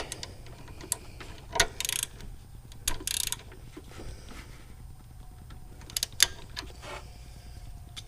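Ratcheting clicks from snugging a 6mm bolt on an adjustable tensioning arm: short bursts of metallic ratchet clatter in two clusters, with quieter mechanical handling sounds between, close and fairly soft.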